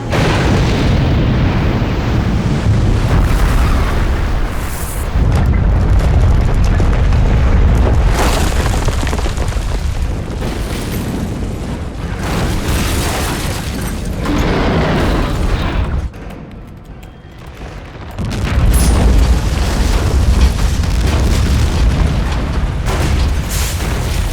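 A disaster film scene in which a building explodes, heavy booming blasts and rumbling debris filling the whole stretch loudly, with a brief dip near the end before the roar surges again.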